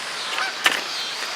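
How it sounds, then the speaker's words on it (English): A single loud goose honk bursts out briefly over a steady hiss, the sound from the 'look at all those chickens' meme. "Look at all those chickens"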